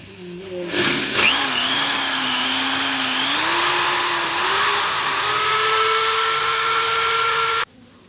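A drill bores out a hole in a broken coolant top-hose flange from an Audi A2 1.6 FSI, giving a loud, steady motor whine that drifts in pitch as it bites, then cuts off abruptly near the end.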